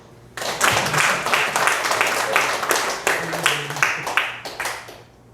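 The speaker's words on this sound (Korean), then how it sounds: "박수" Guests at a year-end party in a Seoul restaurant burst into applause, a crowd of hands clapping in uneven bursts and swells for several seconds, with voices mixed in under the clapping.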